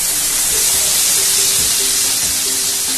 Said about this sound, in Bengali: এবার মশলাটাকে ভালোভাবে কষিয়ে নেব।